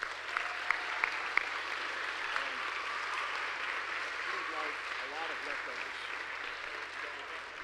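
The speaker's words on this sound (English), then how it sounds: "let's give these guys a round of applause" Audience applause at a scout troop court of honor, a steady patter of clapping sustained across the whole stretch, a few sharper claps standing out early on.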